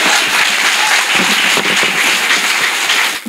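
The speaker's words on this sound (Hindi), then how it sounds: "एक बार तालियां बजा दी है" An audience at a BHU kavi sammelan poetry recital applauds, loud dense clapping that continues evenly throughout before cutting off at the end.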